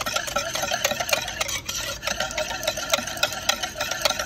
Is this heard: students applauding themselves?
no